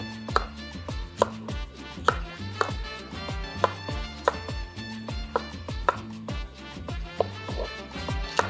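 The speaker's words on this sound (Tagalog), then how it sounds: "Saja con el pimiento y asegura que está con el su mga pepita y el blanco partes adentro." A knife chops a bell pepper on a board for a Chavacano estufao stew, with steady, rhythmic close cuts repeating evenly over a low bed of background music.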